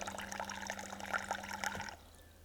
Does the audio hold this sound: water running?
yes